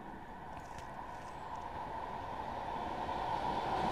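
A steady low rumble of a train rolling past at a distance, rising slightly in loudness throughout, with no voices.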